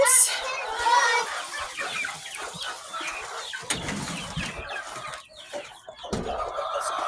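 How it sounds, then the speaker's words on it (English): Two hens in a pen with chicks cluck nearby in a series of short, throaty calls, with farmyard rustling and a few thumps in the background. "We do have 2 hens in this pen with our chicks."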